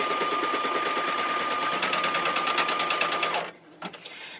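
Embroidery machine stitching a luggage tag in the hoop, a rapid steady mechanical chatter close by that stops abruptly near the end, followed by a couple of soft clunks.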